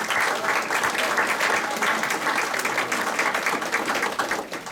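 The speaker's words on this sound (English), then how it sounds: "you deserve a round of applause." Audience applause fills a building ceremony, a dense, steady wash of many hands clapping at close range for the full length, with no voices rising above it.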